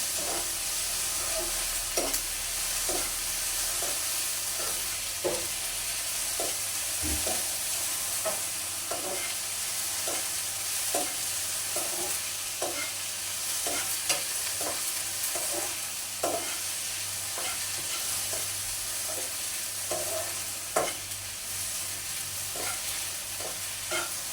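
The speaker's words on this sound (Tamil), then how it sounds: "நல்ல வடிவாக வதக்கி எடுக்கணும் ஆட்டி ஆட்டிக்கொண்டே இருக்கணும்" Okra (lady's finger) is stirred and sautéed in a pan, giving a steady sizzle with a regular series of scraping stir strokes roughly every second, close and continuous, with no talking.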